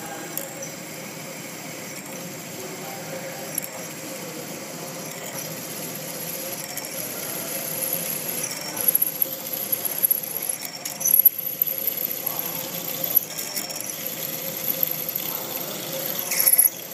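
A steady mechanical whir of a drill cutting a counterbore into metal, with a faint high squeal and occasional clicks, growing slightly louder and rougher toward the end.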